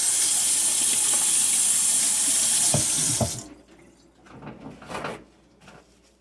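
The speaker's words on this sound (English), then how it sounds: "I'm gonna rinse my hands off." Water from a kitchen tap runs loudly as hands are rinsed beneath it, a steady rushing hiss that stops after about three seconds, followed by faint clatter and movement.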